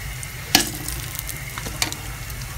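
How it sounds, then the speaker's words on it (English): Tempe soya cake pieces frying in hot oil, a steady close sizzle with a couple of sharper pops and stirring scrapes. "Then fry your tempe, gorengkan tempe anda, fry your soya cake."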